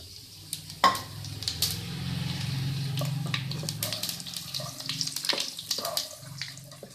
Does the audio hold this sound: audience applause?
no